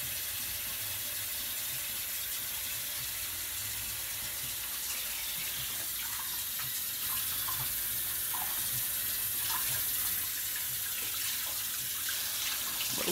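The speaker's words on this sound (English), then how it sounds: "And I use hot water." Hot tap water runs steadily into a sink, a continuous hiss and splash close by with no talking.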